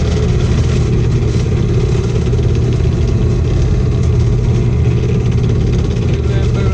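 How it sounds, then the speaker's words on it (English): An electric sander runs steadily on a piece of firewood being shaped into a wooden mallet, giving a loud, continuous droning hum that holds without a break throughout. "Plug the sander in."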